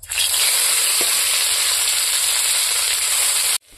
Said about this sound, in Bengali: এখন আমি এই তেলের মধ্যে কাঁচা পেঁয়াজ, কাঁচা লঙ্কা আর তেজপাতা দিয়ে দেব।